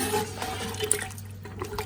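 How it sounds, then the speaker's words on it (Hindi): Two cups of water poured into a pot of mutton for karahi, a continuous splashing, gurgling rush, close and moderately loud, with no talking. "2 कप पानी के मैंने इसमें शामिल भी कर दिए हैं"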